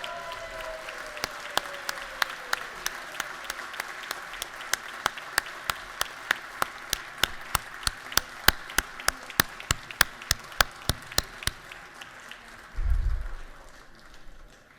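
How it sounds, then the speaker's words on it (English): Steady applause in a legislative House chamber, many sharp claps in a fast even rhythm for about twelve seconds, then a brief low thump as it fades. "Gary Richardson, let's give him a round of applause."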